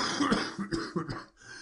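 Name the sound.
voice imitating a cough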